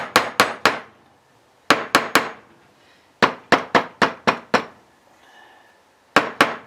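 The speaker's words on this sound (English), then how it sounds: "we'll take a little metal hammer and tap those down through" Sharp metallic taps of a small metal hammer driving pins through a knife handle, in quick bursts of three to five strikes separated by short pauses, close and clear with no talking.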